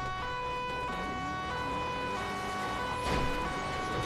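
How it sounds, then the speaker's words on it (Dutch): A police car siren wails steadily in a video game police chase, a loud continuous tone over engine noise with a brief thump near the end and no talking. "Ik doe even mijn sirene even uit."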